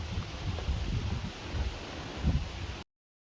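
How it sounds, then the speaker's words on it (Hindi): Steady wind rushes across the microphone at Dhikala campus in Jim Corbett, a broad rumbling gust noise with a few stronger buffets, heard alone before cutting off abruptly. "क्या हवा चल रही है भाई यहाँ तो।"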